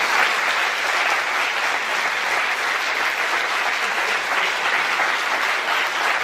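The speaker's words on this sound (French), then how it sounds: "ça mérite une bonne main d'applaudissements" An audience at the opening of the 26th Présence autochtone festival in Montréal applauds the festival team in dense, sustained clapping that fills the room, loud and continuous throughout.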